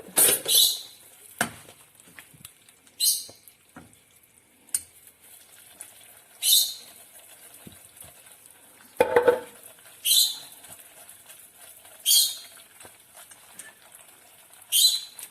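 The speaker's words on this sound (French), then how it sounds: "Donc on touille jusqu'à ce que le beurre il soit bien mélangé" Salted butter being stirred into caramel in a pan, with intermittent scraping strokes of a utensil against the pan coming in separate bursts between quiet gaps, close and fairly loud.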